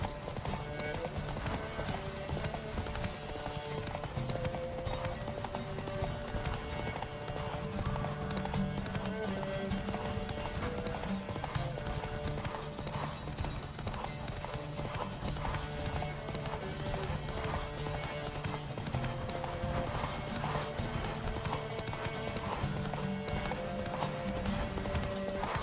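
Galloping horse hooves pound steadily throughout a horse race in The Witcher 3 video game, a fast continuous clip-clop with game music and occasional whinnies layered over it.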